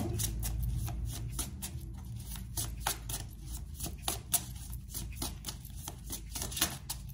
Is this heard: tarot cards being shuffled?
yes